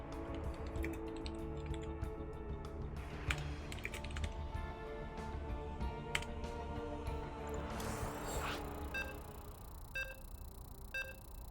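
Rapid clicking on a computer keyboard while a StarCraft 2 player enters a lobby name, bursts of close, irregular keystrokes continuing throughout, joined near the end by a few soft electronic beeps.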